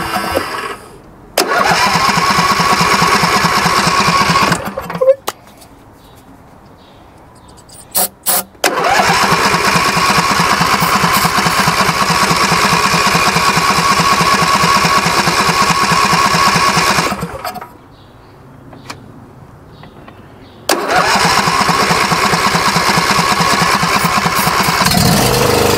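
A John Deere D140 lawn tractor engine cranks repeatedly in long, loud bursts of rhythmic starter churning, separated by short pauses, struggling to catch, heard up close without voices.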